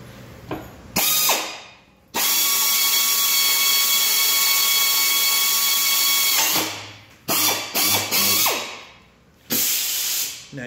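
A power drill whines loudly in several long runs with brief pauses between, the bit grinding through steel drilling a clearance hole for a Voron 3D printer bed, with a steady high-pitched tone.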